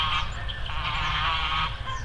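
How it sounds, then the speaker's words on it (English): Geese honk repeatedly in a steady chorus of nasal calls, moderately loud and nearby, over a low background rumble. "So, the geese."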